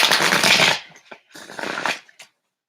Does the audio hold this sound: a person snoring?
no